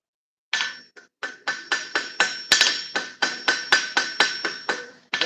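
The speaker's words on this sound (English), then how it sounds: "I'm going to hammer on that and get rid of those grind marks" A blacksmith hammers hot steel to flatten out grind marks, about fifteen sharp ringing blows in a steady rhythm after a brief pause, close and loud with no talk.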